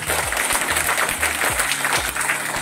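Attendees at an RCM education event clap for Rajan sir, a steady wash of applause over a low, pulsing hum that repeats about every half second.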